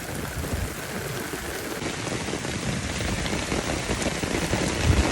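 Steady outdoor rain hissing and pattering on surfaces during a thunderstorm, a dense continuous wash with a low rumble near the end and no talk.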